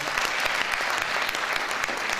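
Dense applause from an audience honouring an artist at an academy event, steady and continuous clapping throughout.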